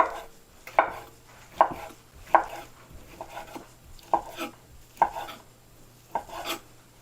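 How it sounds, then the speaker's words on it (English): Knife chopping chuck roast beef on a cutting board, a steady series of sharp, moderately close thwacks about once a second, with faint kitchen clatter between strikes and no talking. "While that thickens up a little bit more, we are going to chop up our beef."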